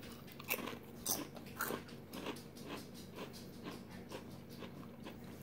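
Crisp, close crunching of Ruffles potato chips, with several sharp bites around the start and then steady chewing crackle, no talking.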